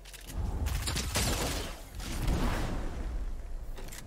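Rapid bursts of submachine gun fire from the Unvaulted SMG in Fortnite, loud and dense, with gunshots cracking in two swelling volleys and a brief lull between them.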